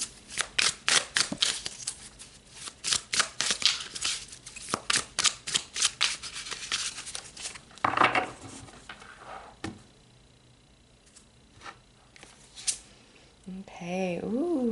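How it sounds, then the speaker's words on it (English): Tarot cards are shuffled and handled up close in a quick run of crisp riffles and flicks, followed by quieter card handling and a brief voice at the end. "Let's pull some more cards."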